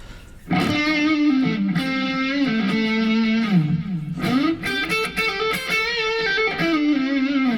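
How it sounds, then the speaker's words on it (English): A Godin Session HG electric guitar on its neck pickup through a Spark amp's high-distortion patch plays sustained, bending notes with a warm, thick tone, loud and continuous after a brief quiet start; no speech. "That's my distortion patch, or my highest distortion patch on my Spark that I made."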